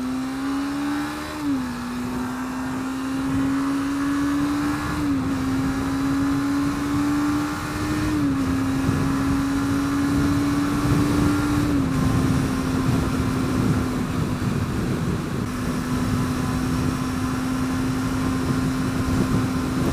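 Suzuki GSX250R 2017 250cc motorcycle cruising on a motorway in sixth gear at about 70 mph, a loud steady engine drone with small pitch steps as speed shifts, under heavy wind rush.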